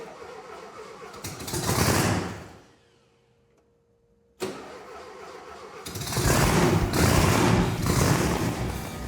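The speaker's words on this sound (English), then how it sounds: "Turn the key, and it starts, just as it was advertised." A supercharged Volkswagen engine in an International truck build cranks with a rising whir, then pauses briefly. It then fires and settles into a loud, steady running roar, heard up close.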